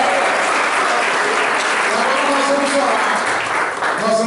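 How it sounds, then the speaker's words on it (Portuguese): A church congregation at a worship service applauding together, dense sustained clapping close and loud for the whole stretch, with a few voices faintly mixed in. "Pode aplaudir o Senhor."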